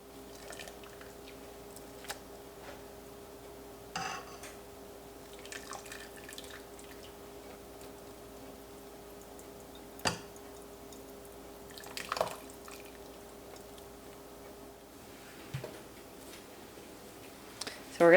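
Ricotta curds sitting in a mold near a sink, draining their liquid as faint, sparse drips and small wet ticks over a low steady background hum.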